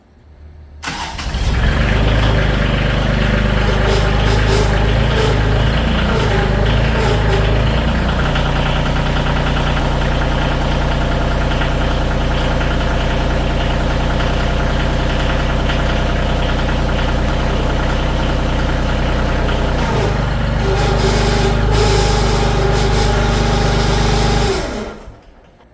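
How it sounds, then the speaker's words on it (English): A Kioti CX or CK series compact tractor engine idles steadily and loud right after being cranked during a routine service, a constant low diesel rumble that runs unbroken for about twenty-three seconds before cutting off. "So I cranked the tractor and you heard it"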